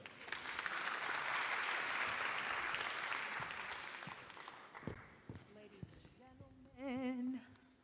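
An audience at a deep tech summit applauds after a quantum computing keynote, a dense wash of clapping that swells, holds for several seconds, then fades into scattered claps, footsteps and a brief voice.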